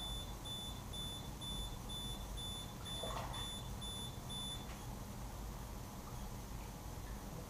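Electronic beeper sounding a rapid, steady train of short high-pitched beeps over a low background hum, stopping partway through.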